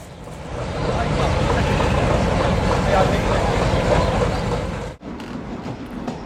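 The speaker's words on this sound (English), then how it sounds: "This was our special train, 2 coaches and an observation platform" A special two-coach train with an observation platform rumbles steadily through the Peruvian Andes from Lima, a loud, continuous rolling roar with a short dropout near the end before the noise resumes.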